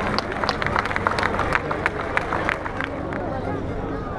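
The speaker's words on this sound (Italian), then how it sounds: "salutiamo con un applauso i componenti del gruppo folk Santa Barbara di Ulassai" Scattered clapping and crowd hubbub at an outdoor citrus festival in Sardinia, welcoming a folk group, with sharp individual claps over a busy murmur of voices and background noise.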